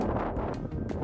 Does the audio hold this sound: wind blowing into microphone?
yes